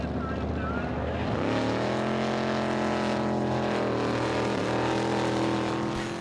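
A rebuilt racing boat engine roars steadily on the water, a loud continuous motor drone with shifting pitch as the throttle opens, close and dominant throughout.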